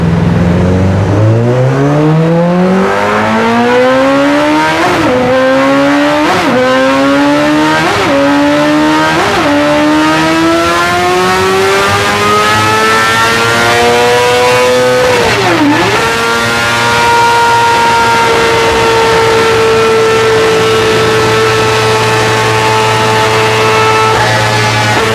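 A tuned 2021 Honda CBR1000RR-R SP motorcycle accelerating hard at full throttle, its engine screaming up through several rapid gear changes with a pitch that climbs and dips at each shift, then holding a loud, steady high note.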